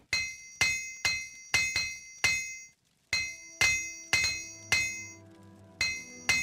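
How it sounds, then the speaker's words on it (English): In Morrowind, a hammer strikes repeatedly in an even rhythm, about a dozen sharp metallic clinks with ringing overtones, loud and close, broken by one short pause. "Just using this hammer"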